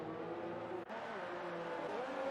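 A Formula 1 race car in the video game F1 2019 brakes into a corner at the Spanish Grand Prix, its engine note dropping in a steady droning whine that stays loud and close throughout.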